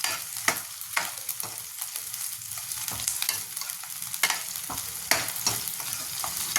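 Onion sizzles as it fries in a pan, with regular spatula scrapes and stirring strokes over a steady crackle, close and clear with no voices.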